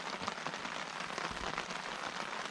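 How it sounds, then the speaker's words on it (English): Gentle rain patters steadily on a pergola roof at Yadboro Flats campsite, a soft continuous hiss of drops at even strength with no voices. "I'm hoping you can hear that sound of gentle rain throwing on our pergola"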